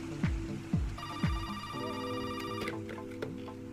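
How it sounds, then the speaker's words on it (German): A telephone ringing softly in the background, a few faint ringtone chimes over low room noise with no talk. "Telefon."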